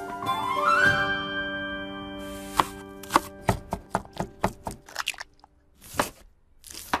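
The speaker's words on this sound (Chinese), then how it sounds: "腊肠切丁" Chinese sausage is diced on a board with a knife, a run of sharp, evenly spaced chops close up, speeding into quick clusters after a brief tonal sweep at the start.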